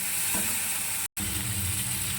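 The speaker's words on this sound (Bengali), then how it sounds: "জিরেটা ভেজে গুঁড়ো করে নিই ঘরে, দিয়ে একটু লঙ্কার গুঁড়ো দিয়ে একটু কষিয়ে নিই।" Cumin and chilli powder spice paste sizzles and fries in hot oil while being stirred, a dense steady crackling hiss with brief scraping, interrupted by a short cut of silence midway.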